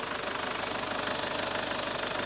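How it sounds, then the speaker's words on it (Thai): Car engine idling steadily, an even continuous hum with a faint rhythmic tick and no voices; the engine runs smoothly and normally. "อ่าเสียงเครื่องนิ่มๆเนี่ยนะครับ เครื่องยนต์เดินเรียบปกตินะครับ"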